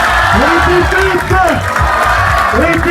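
A crowd at the Critérium de Lisieux 2019 cycling race claps and cheers for the champions, a loud steady roar running under an announcer talking over a PA.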